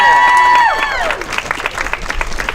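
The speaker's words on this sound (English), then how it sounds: "give yourselves a round of applause" Crowd at an outdoor wind energy rally breaking into applause and cheering, loud and close, rising right after a sustained tone fades.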